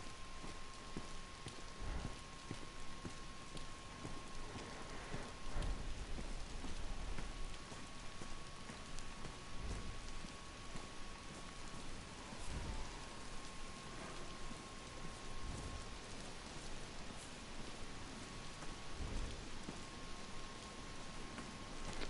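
Steady rain in the DayZ video game on PS4 Pro, a continuous hiss of falling drops with occasional heavier patters and low thumps, constant and fairly loud throughout with a faint steady tone running beneath.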